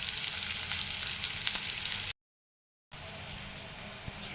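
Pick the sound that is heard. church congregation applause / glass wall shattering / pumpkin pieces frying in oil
pumpkin pieces frying in oil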